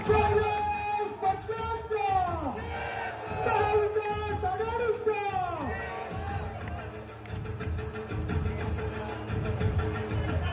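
A huge crowd at the launch rally of a Maha Vikas Aghadi political campaign roars and chants in loud, surging waves of shouting and cheering that rise and fall throughout.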